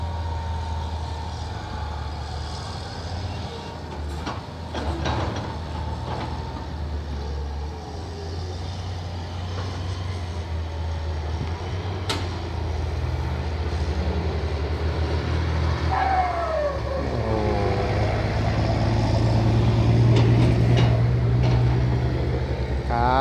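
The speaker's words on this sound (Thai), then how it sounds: "เครื่อง 240 นะครับ มิตซู 240 เทอร์โบ นะครับ" Mitsubishi 240 turbo diesel engine of a loaded truck idling and running steadily at easy revs, a continuous low rumble close by with a slight swell toward the end.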